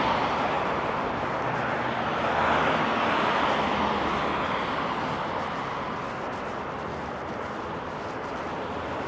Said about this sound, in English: a plane going overhead.